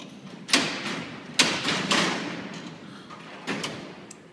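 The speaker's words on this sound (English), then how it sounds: "pulls it open, locks it open. You want to open more than one door at a time, you can do it." Heavy steel cell doors at Alcatraz prison slide along their tracks and clang shut, several loud metallic thuds and rolling rumbles in sequence, one after another over a few seconds with no talking.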